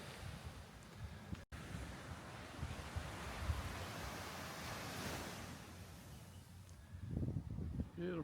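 Ocean waves wash steadily onto Saud Beach in Pagudpud, a continuous soft roar of surf with light wind noise, fairly faint and distant throughout with no talking.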